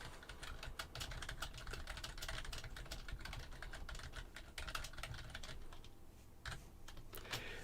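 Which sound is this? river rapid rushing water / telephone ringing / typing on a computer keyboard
typing on a computer keyboard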